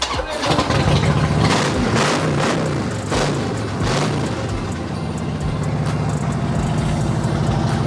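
A Harley-Davidson motorcycle engine cranks and catches, then runs loud and rough at a steady idle with sputtering pulses, close by.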